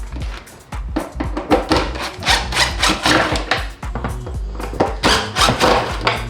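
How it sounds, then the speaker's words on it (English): A Phillips screwdriver works bolts loose inside a Lexus GX470 during a speaker upgrade, making a dense, close stream of clicking, scraping and squeaky rubbing with rhythmic knocks throughout. "you have 2 bolts that you need to remove, and they are just a Phillips head screwdriver bolt."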